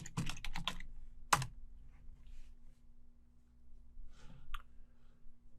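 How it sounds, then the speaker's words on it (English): Keys on a computer keyboard tapped to search for ZenMap on a Windows 11 machine: a quick burst of close clicks, one sharp press, then scattered faint taps over low background hum. "in the search field, we're going to type in ZenMap and click enter"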